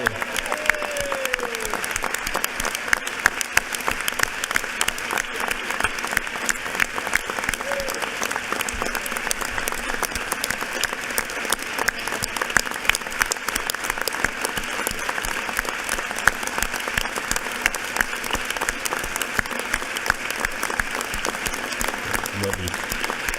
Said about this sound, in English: if we could give the incredible Talmadge James a round of applause on the day of her retirement.